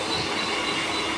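A Mumbai local train runs along the line, a steady close rumble of wheels and carriage noise filling the moment without pause.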